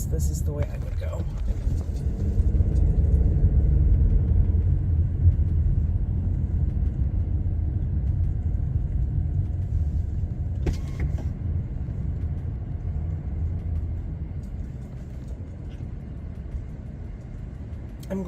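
A car cruising along a road, its steady low engine and tire rumble carrying on throughout while someone inside speaks over it.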